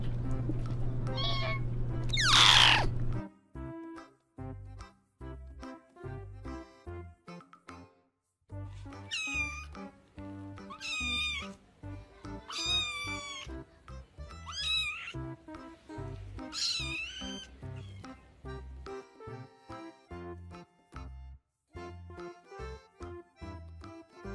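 A cat meows loudly several times, with drawn-out, wavering cries spaced across a quiet room, and faint rustling and small clicks between them.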